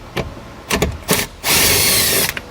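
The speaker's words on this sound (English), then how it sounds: "we're going to grab a 10mm socket and remove 2 bolts that holds this paneling on" A power tool spins a 10mm socket to remove panel bolts on a 2022 Chevrolet: a few short close whirring bursts, then one longer sustained loud run.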